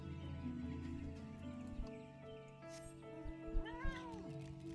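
A cat mount in Final Fantasy 14 gives a short meow near the end, rising over a soft, ongoing bed of game music with light thuds.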